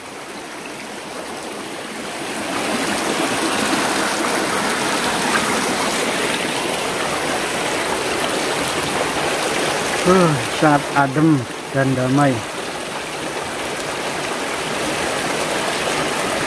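Water trickles and rushes steadily in a constant broadband wash, with a person speaking briefly partway through.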